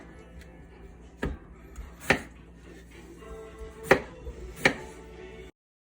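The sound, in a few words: knife chopping potatoes into same-size pieces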